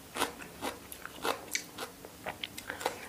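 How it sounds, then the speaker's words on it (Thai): Close crunchy bites and chewing of a large bitter gourd, a run of sharp crackling crunches spaced through the moment, with no talking. "จะลองกินมะระขี้นกใหญ ่ไม่ค่อยขมนะขมนิดนึง"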